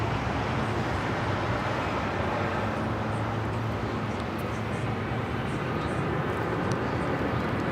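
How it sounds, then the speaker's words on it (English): An American Airlines Boeing 737-800 takes off from Los Angeles International, its engines a steady, loud broadband roar that holds for the whole stretch while faint talk runs underneath. "This is American Airlines 1899 taking off to Indianapolis on the 737-800"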